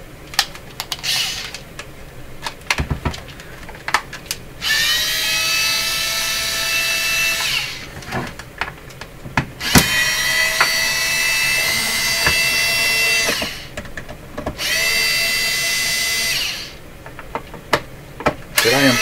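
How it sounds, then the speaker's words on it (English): An electric screwdriver or drill backs screws out of a Conar 230 equipment case in several sustained whirring bursts, each a few seconds long, separated by clicks and handling noises, close up. "It's a matter of pulling out 7 screws."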